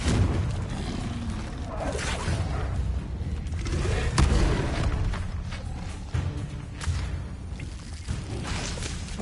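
Confringo blasting spells crack and boom amid chaotic Hogwarts Legacy spell combat, repeated thumping explosions and whooshes packed into a loud, continuous fight.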